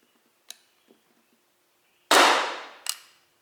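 Single sharp pop from an Umarex SA10 CO2 .177 air pistol fitted with a fake can, loud and close with a short trailing hiss and a metallic click afterward, preceded by faint handling clicks.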